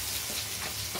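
Bitter gourd leaf fritters go into hot oil in a small wok and sizzle and crackle steadily at close range, a brief bright frying hiss.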